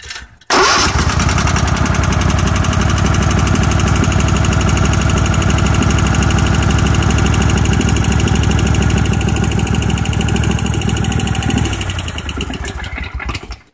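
A small engine cranks and catches, then runs loud and steady with a rapid chugging beat for about eleven seconds before dropping off and shutting down.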